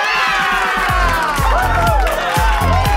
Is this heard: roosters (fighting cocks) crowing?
no